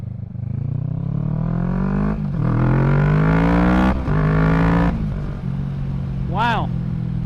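A Kawasaki Z650 motorcycle fitted with a Yoshimura Alpha exhaust revs loudly and up close, its deep drone rising in pitch through repeated pulls with brief dips between them.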